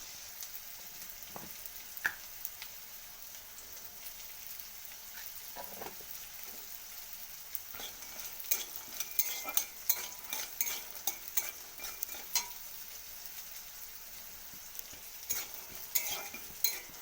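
Peanuts frying in a little oil in a kadai give a quiet, steady sizzle, while occasional scrapes and clinks come from stirring with a utensil, growing busier partway through.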